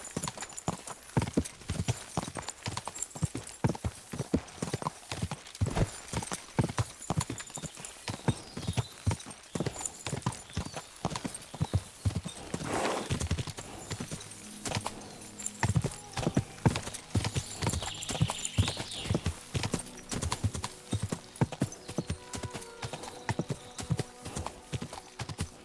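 Horse hooves clip-clop in a steady, close rhythm for the whole stretch, with a brief whinny partway through and a few faint voices in the background.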